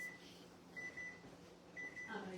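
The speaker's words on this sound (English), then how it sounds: "I hear my buzzer going off" A kitchen oven timer buzzer sounds in short repeated electronic beeps, paired tones recurring at intervals over a low background hum, with no one talking.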